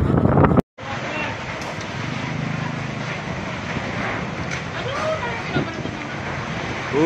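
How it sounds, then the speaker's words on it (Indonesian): Heavy rain and strong wind in Pondok Ungu Permai, Bekasi, form a steady broadband rush with gusty buffeting on the microphone after a brief dropout, and a voice speaks under the noise. "Hujan gede, angin besar"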